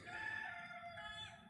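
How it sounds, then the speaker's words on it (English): Levi the rooster crowing, one faint, sustained crow from some distance, with no talking. "That's Levi the Rooster."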